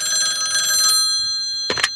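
A telephone bell rings loud and close in a home Christmas skit, one sustained trill followed by a short second burst after a pause.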